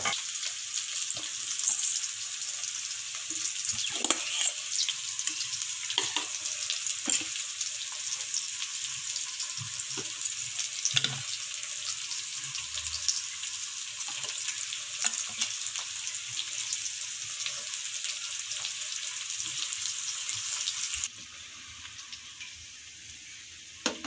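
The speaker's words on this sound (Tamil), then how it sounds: "இப்போ வெங்காயத்தை போடுறேன். இப்போ இது வதங்கிட்டு இருக்கட்டும்" Onions fry in a pan for a fish curry with raw mango, giving a continuous close sizzle with occasional stirring clinks, quieter near the end.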